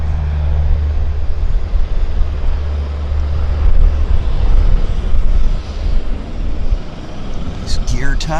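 A Central Mountain Air airplane takes off at Vancouver's YVR airport, a loud sustained low engine roar close by with rushing noise, and a brief chirp near the end.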